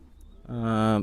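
A single close, loud coo from a Pakistani teddy or deshi baji pigeon in a breeding pair, one rounded, sustained call of about half a second after a brief quiet lead-in.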